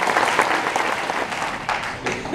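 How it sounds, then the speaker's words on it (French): Applause from the crowd at a political campaign meeting in Hagetmau, Landes, a steady dense clatter of many hands clapping throughout, fairly close and sustained without pause. "Je crois qu'on peut à nouveau les applaudir pour leur beau combat."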